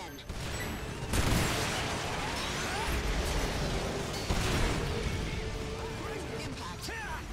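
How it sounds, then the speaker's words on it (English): A linear cannon fires in the video game Earth Defense Force 4.1. Dense, roaring blasts sustain throughout, with two sharp surges of discharge and crackling debris and effects layered on top. "Linear cannon discharged again."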